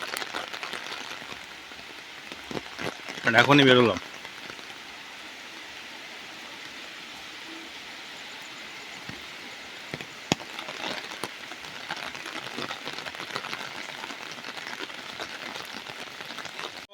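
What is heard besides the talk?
heavy rain pouring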